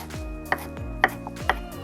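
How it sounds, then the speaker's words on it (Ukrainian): A knife chops parsley on a cutting board nearby, a few sharp, evenly spaced strikes about half a second apart. "я нарізаю зелень петрушки"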